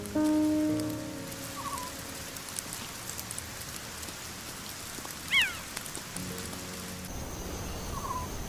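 Steady rain falls across an acacia forest in the Serengeti, a dense even hiss of drops on leaves and ground that runs throughout, with a few faint bird calls breaking through.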